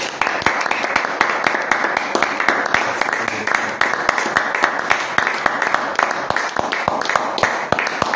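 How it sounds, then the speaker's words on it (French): A church congregation claps together in loud, fast, continuous rhythm, with voices mixed in throughout. "Applaudissons pour le Seigneur Jésus."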